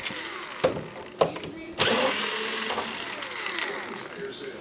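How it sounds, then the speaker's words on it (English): Screws being removed from the lamp block assembly of a Sony SXRD projection TV with a power driver, giving short whirring bursts and then a longer sustained whine, close up and moderately loud. "Next, we'll remove part of the lamp block assembly out of the way by removing these screws right here."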